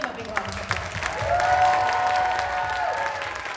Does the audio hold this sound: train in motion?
no